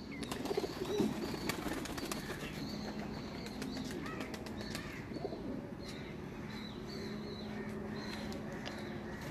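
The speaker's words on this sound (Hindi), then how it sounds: "ये लाल आंखों वाला कबूतर है।" Red-eyed pigeons cooing on a rooftop, soft repeated coos over a faint background of other birds and scattered wing flutters, at a moderate distance.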